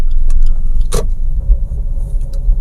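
Manual car pulling away as the clutch is released at the biting point with light acceleration on a highway, with a low engine rumble under scattered clicks and a short sharp knock near the start.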